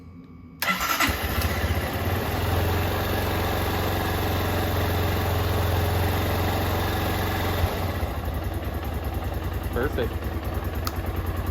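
A 2008 Honda CRF230L motorcycle engine with a freshly cleaned carburetor starts and settles into a steady, close idle, with a brief spoken word from a man over the running engine.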